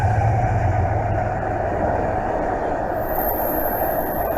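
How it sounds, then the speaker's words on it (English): A train passing on rails, a loud, steady rolling roar of wheels with a thin, high squeal rising near the end. "It's literally just videos of trains."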